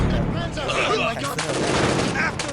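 Gunfire in a Company of Heroes 2 battle at the Stalingrad rail station: close, loud bursts of shots mixed with blasts, with voiced unit callouts over the shooting.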